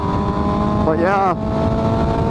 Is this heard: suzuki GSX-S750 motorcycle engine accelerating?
yes